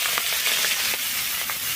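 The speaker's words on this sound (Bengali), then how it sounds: "এবার চিংড়ি মাছগুলো ভেজে নেব।" Prawns frying in hot oil make a steady, loud sizzling hiss with small crackling pops throughout, heard up close with no voices.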